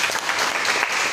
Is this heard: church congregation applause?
yes